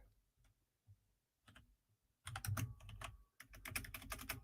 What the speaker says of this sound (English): excuse my typing noises. Mechanical keyboard is pretty loud.